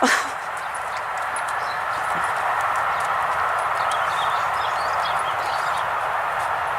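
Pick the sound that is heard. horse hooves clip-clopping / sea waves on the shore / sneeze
horse hooves clip-clopping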